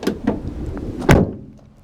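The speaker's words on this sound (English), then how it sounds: "then going round to the side, we'll open up this side door" Side sliding door on a 2014 Renault Kangoo ZE Maxi electric van being worked, a few close clunks and rattles ending in one louder latch thud, with no talking.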